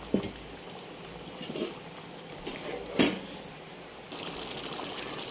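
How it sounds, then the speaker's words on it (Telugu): Water pours briefly into a simmering chicken curry, a soft splash and trickle over a low background bubbling, with a couple of clinks. "కొన్ని వాటర్ వేసాను"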